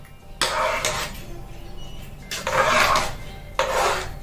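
A spoon stirs a thick sago mixture in a metal pot, making three separate bursts of scraping and rubbing against the metal, close and moderately loud with no talk.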